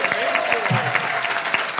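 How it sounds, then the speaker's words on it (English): Audience applause after a moderated on-stage conversation at a legislative session, steady dense clapping with scattered sharper claps, close and fairly loud, voices faintly mixed in. "let's give Rachel another big round of applause"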